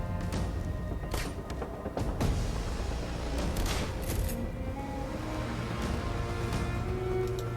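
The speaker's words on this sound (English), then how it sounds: "Grenade launcher. She's a menace with that thing." Explosive combat sounds from the video game Shadowrun Hong Kong, where a grenade launcher is firing. Repeated sharp blasts and bursts stand over a dense, continuous game soundscape of rumble and clatter, loud and busy throughout.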